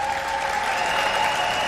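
Audience applause at a Miss Universe preliminary pageant, steady and full across the whole stretch, a dense wash of clapping with no pauses.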